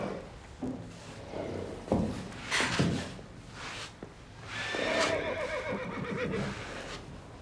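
A school riding horse neighs in a long, shaky whinny close by, with hoof thuds and taps around it and no talking.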